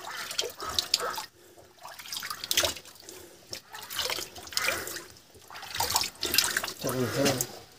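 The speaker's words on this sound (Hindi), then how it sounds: "यहाँ से इस पाइप से ये पानी जो है वो नीचे जा रहा है।" Very cold water gushes and splashes from a pipe in uneven bursts at Bothoo, Bandipora, Kashmir, with people talking over the flow nearby.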